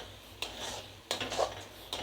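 A spoon stirs ground spices, ginger garlic paste and onion in a pan for chicken curry, with three sharp scraping clanks against the metal amid a soft background hum.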